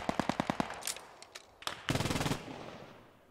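Machine gun fire in a military drill game at Arnhem, several short automatic bursts of rapid shots, some distant and faint, one louder burst near the middle, with no talk.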